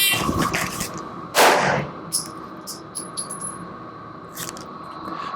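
A single sharp handgun shot cracks out after a draw from under a cover garment during a defensive shooting drill, followed by faint metallic clinks and a brief remark from a man.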